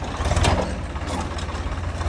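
A tractor engine running in a farm field, a steady low diesel rumble nearby with a brief louder burst early on, no talking over it.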